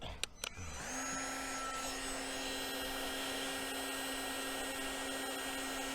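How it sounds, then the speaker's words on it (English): A heat gun blows steadily while shrinking vinyl wrap around a plastic handle on a European estate car being restyled as a 1970s American station wagon. A couple of sharp clicks come first, then a close, constant airy roar with a faint whine. "Where's my heat gun?"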